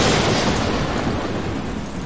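Heavy rain and stormy weather, a dense steady roar of downpour with low rumbling, loud and close, fading slightly over two seconds with no voices.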